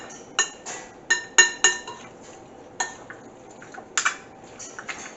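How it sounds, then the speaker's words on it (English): Spoon clinking and scraping against a dish while stirring garlic-coated pork for Guyanese garlic pork, a series of sharp, close taps and scrapes at irregular intervals with quiet gaps between. "we're using a spoon to get it all mixed together"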